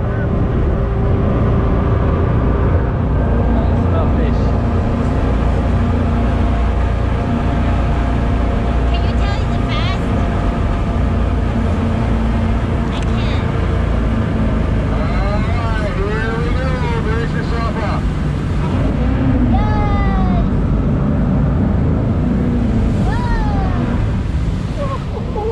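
An aluminum welded whitewater jet boat powered by three 6.2-liter Chevrolet Marine engines roars loud and steady on a river, with rushing water and wind throughout and faint voices in the background.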